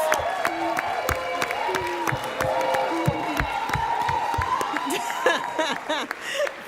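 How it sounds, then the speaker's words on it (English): At a college baccalaureate ceremony, an audience applauds with scattered cheers and whoops while voices chatter over the sustained clapping. "Graduates, let's give them a big round of applause."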